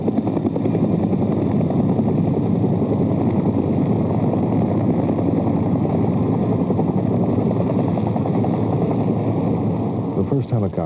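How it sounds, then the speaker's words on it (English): A steady, loud helicopter drone with rapid rotor chopping continues unbroken throughout, as helicopters fly toward My Lai, Vietnam. "At 7:22, the first helicopters left for My Lai."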